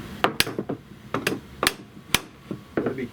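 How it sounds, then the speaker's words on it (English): A mallet whacking a wooden chair apart during a repair, sharp uneven knocks of wood on wood, some hard and ringing and others duller, close by with no talking. "Gotta be careful because this mallet will dent this wood if I hit it wrongly"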